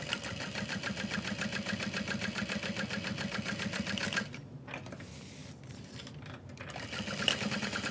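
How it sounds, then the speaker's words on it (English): A sewing machine stitches the side seam of a tote bag at an eighth of an inch, a close rapid rhythmic whir that runs steadily, halts midway with a few clicks and handling sounds, then starts again. "we're going to sew at 1/8 of an inch along the side"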